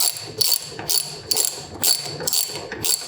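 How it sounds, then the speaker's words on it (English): Quick bursts of clicking ratchet strokes as a ratchet removes the bar ends from a 2018 BMW S1000RR motorcycle, about six sharp close rhythmic runs of pawl clicks with short pauses between them. "we're gonna go ahead and remove the bar ends from the bike"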